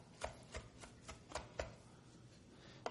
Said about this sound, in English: when you're chopping, just use a rocking motion with a flat blade knife or a rounded blade knife